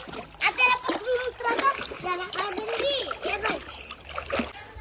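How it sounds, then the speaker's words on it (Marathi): Water splashes repeatedly as people take a dip in warm water during a family outing, with voices, including a child's, talking and calling over the splashing throughout. "एक डुबकी मारून घेऊच"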